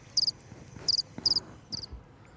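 A cricket chirping sound effect played from a phone, four short bright trilling bursts spaced about half a second apart, small and tinny over a quiet room.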